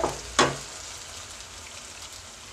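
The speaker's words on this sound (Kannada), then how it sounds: "ಈಗ ಟೊಮೊಟೊ ಎಲ್ಲ ಫ್ರೈ ಆಗಿದೆ." Tomatoes frying in a pan for egg rice give a low, steady sizzle, with one sharp clatter near the start, close and without talk.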